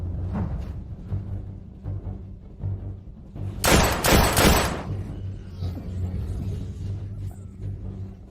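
Gunfire in a Hindi drama scene: a short burst of loud, booming shots in quick succession, heavy and rumbling, breaking out of a low, steady background hum before fading back.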